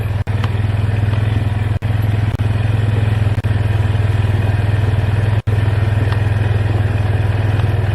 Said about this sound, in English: by moving the camera up, I can get rid of most of the engine noise